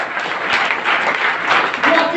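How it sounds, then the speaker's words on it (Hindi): Loud crowd applause and clapping for achievers at an RCM team celebration program in Khurja, a dense, steady wash of many hands, close and sustained throughout. "मैं चाहता हूं सभी अचीवर्स के लिए एक बार जोरदार ताली बजाएं।"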